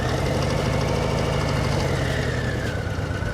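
A motorcycle engine chugs loudly and steadily up close as the learner rider lets off the throttle, a dense, rough, knocking rumble that keeps going for the whole stretch with no voices.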